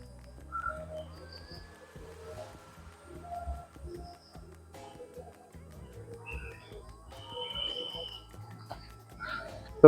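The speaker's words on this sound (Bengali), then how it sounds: "শুধু পাখির ডাক আর" Scattered bird calls and chirps, with what may be frog croaks, sound intermittently at a quiet temple surrounded by nature in Murshidabad. The calls come from varying distances, faint to moderate against a low background.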